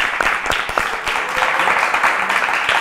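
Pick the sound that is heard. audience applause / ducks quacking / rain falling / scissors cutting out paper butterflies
audience applause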